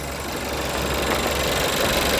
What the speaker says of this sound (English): Very clean, smooth, quiet engine.